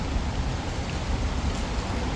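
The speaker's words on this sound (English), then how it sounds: "it's definitely raining." Rain falls steadily over a campsite in a park, a continuous dense hiss of drops hitting surfaces with a low rumbling undertone, even and unbroken throughout.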